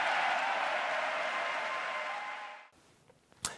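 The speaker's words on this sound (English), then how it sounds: "People standing, cheering, screaming, clapping" A large audience applauds and cheers after a speech by Netanyahu, a dense, loud roar of clapping that holds steady, then cuts off abruptly into near quiet with a brief knock near the end.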